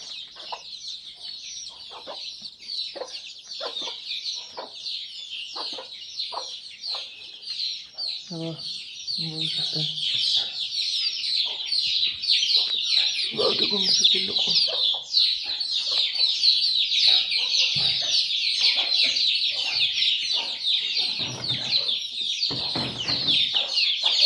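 A country-breed hen clucks in short repeated calls while many chicks peep continuously in a dense, high chorus that grows louder and busier.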